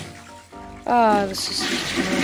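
A toilet block from a Minecraft mod flushes with a rush of water that starts after a short spoken exclamation, then continues as a steady hiss and swirl close up while the voice carries on over it.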